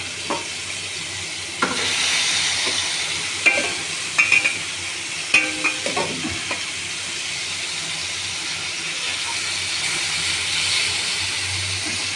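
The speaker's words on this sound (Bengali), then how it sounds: "এই যে মাছগুলো সব দিয়ে দিয়েছি এখন ভাজা হচ্ছে" Pieces of pangas fish fry in a pan with little oil, a steady close sizzle broken by a few sharp clatters and stirring knocks near the middle.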